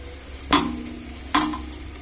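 Two sharp metallic clanks of a spoon against a pan while fried onions, green chillies and tomato are stirred, each followed by a brief ringing tail over a faint steady frying hiss, close by.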